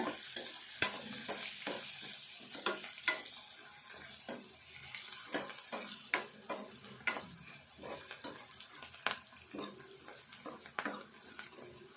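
Freshly crushed ginger frying in a pan for a ridge gourd and moong dal curry, a soft sizzle punctuated by irregular scraping clicks of a spoon stirring, fairly quiet and close, with no talking.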